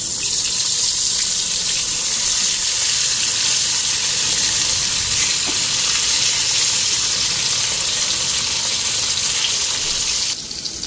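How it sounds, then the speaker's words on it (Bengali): Chili fritters frying in hot oil for a Bengali feast, a steady, loud, broadband sizzle and bubbling that runs unbroken throughout, with no talking. "লঙ্কার বড়া কটা ভাজুন"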